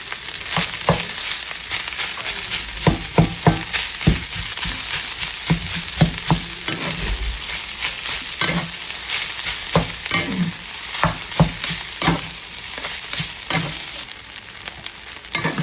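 Garlic rice stir-fried in butter in a pan: continuous close sizzling with repeated scraping and tossing strokes of a spatula in an irregular rhythm, loud and steady for the whole stretch.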